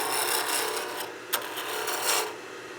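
Spindle roughing gouge cutting a spinning wooden blank on a lathe, a steady close rasping scrape with one sharp tick near the middle and a brief swell toward the end, no voices.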